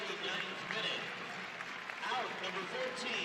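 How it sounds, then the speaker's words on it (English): Stadium crowd applause at a women's soccer match, Seattle Reign FC versus Orlando Pride, ripples across the stands, fairly distant and even, under a commentator's ongoing talk during a substitution. "Nice round of applause for"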